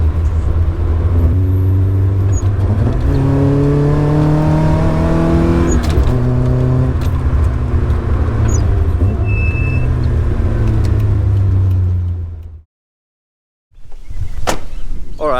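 A powerful car engine, not yet making its full rated power, revs loud and close, climbing through repeated rising pulls with rapid gear changes before cutting out abruptly near the end, then rumbling back in briefly.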